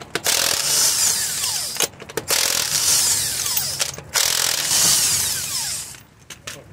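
A cordless impact wrench takes a wheel off a Chevy Trailblazer in several loud, close rattling bursts, each a second or two long, with short pauses between them.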